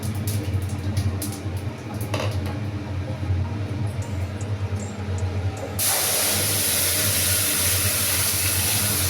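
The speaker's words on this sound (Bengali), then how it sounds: "এটা আমি এখন ফোড়নে দিব।" Whole spices hit hot oil for a Bengali tempering, setting off a loud, steady broadband sizzle that jumps in intensity partway through and continues without pause, with a low background hum and no talking.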